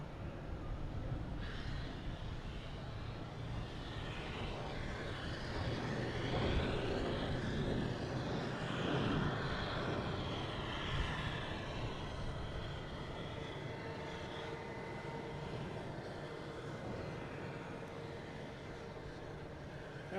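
American Airlines jet arriving at Boston Logan Airport, a broad engine roar that swells to a peak midway and slowly fades, heard from a distance amid steady outdoor background.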